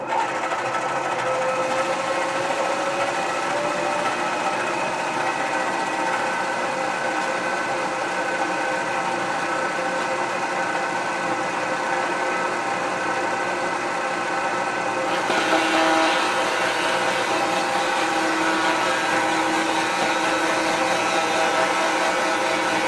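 A machining spindle runs at about 300 RPM with a feed of 7 inches per minute, giving a steady mechanical whir that brightens and grows slightly louder partway through, with no talking.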